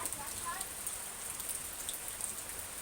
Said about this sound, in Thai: ดูน้ำดูฝน ตกกำลังพอดีแล้วครับ